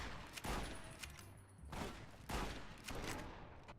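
Gunfire rings out in a first-person video game, four heavy spaced shots with sharp attacks and ringing decays, fairly close but at moderate level.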